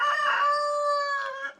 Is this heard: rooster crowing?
yes